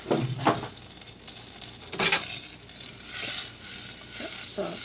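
Eggs cook in a pan with soft, steady sizzling, punctuated by a few sharp scrapes and stirring strokes of a utensil, quiet and close.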